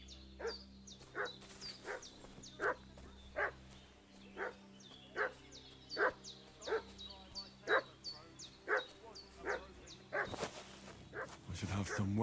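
A dog in the video game Kingdom Come: Deliverance 2 barks over and over at a steady, even pace. The sharp yaps sound fairly close, over a low ambient game background, and a louder noise rises at the end.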